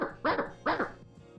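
A person imitates a dog's woof with their voice, giving two loud, separate bark-like barks in quick succession, close up and with no other sound around them.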